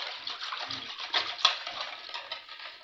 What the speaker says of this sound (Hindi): टिक्का को जूसी बनाने के लिए हमने यहाँ पानी लिया है, पानी में सिरका और नमक ऐड किया है